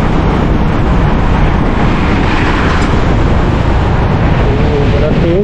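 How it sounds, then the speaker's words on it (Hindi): Loud, continuous rushing of a fast, muddy river beneath a bridge on the Karakoram Road, Gilgit-Baltistan, a broad turbulent roar with no break, close by. "बड़ा तेज है पानी यार,"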